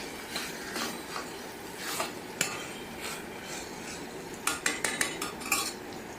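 A metal spoon stirs desi ghee into pumpkin petha sabzi in a pot, with repeated scraping and clinking against the sides, sharper knocks clustering toward the end.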